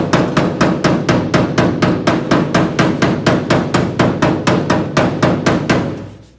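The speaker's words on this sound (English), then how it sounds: "when you're doing hammer work, body hammer work, it's just a bunch of light taps like that" A body hammer taps a 1959 Ford Galaxie body panel in a quick, even run of about twenty light metallic blows, close and loud, with no talking.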